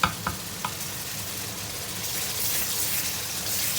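Zucchini masala with tomato simmering and sizzling in a pan, a steady close frying hiss after a few quick clinks of a spoon at the start.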